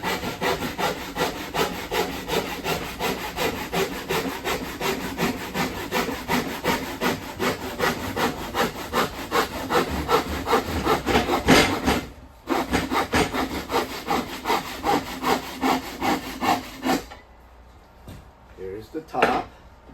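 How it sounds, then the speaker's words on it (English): A Japanese-style hand pull saw cuts wood for a bluebird house, with fast, steady rasping strokes, close and loud, continuing for most of the stretch before a short pause and a few final strokes. "These saws, when you pull them, they will cut."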